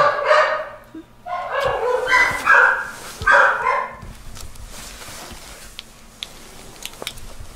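A dog barks several times in quick succession, close and loud, then things quiet down to faint background rustling and scattered small noises.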